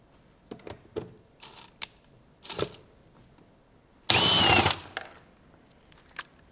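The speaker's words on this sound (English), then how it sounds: "we're going to remove the vac motor from the machine by removing these 3 10mm nuts" A power tool runs in one loud continuous burst of about half a second, removing 10mm nuts from the vacuum motor of a Tennant T5 auto scrubber, with scattered clicks and handling knocks of tools and parts before and after.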